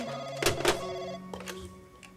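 A telephone rings with an electronic tone, a short repeating pattern, fairly close, with a couple of soft knocks mixed in.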